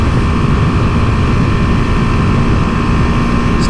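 A BMW G310GS single-cylinder motorcycle engine of about 34 horsepower drones loudly and steadily while riding, mixed with heavy wind rush throughout.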